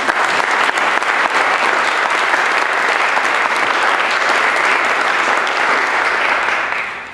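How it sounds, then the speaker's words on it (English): Dense, sustained applause from a symposium audience fills the room at a steady loudness for about seven seconds, then starts to taper at the very end. "let's give her a rousing round of applause."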